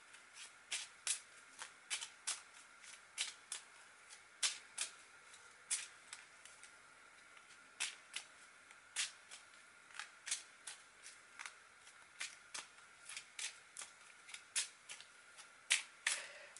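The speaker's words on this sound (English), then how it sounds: "let me give the cards a good" Playing cards shuffled by hand for a card reading, a long series of crisp riffling bursts repeating at an irregular rhythm, fairly close and quiet, with no talking.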